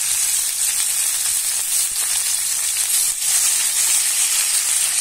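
Tomato and ginger paste frying with salt in a pan, giving a steady, close sizzling hiss that runs unbroken and evenly loud throughout, with no voices.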